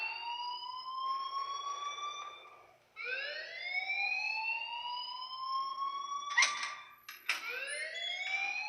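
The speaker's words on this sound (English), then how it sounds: "please turn off that alarm since that's your job" A loud alarm in the Life is Strange game wails in repeated rising electronic sweeps with a harsh buzzing edge. It continues steadily, broken once by a short gap and a few sharp clicks, and no one speaks over it.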